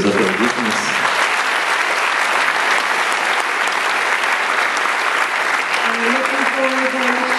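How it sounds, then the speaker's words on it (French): Audience applause fills a hall during an opening ceremony, steady and dense for several seconds, with a voice briefly heard over it near the start and end. "Je vous demande aussi de les applaudir"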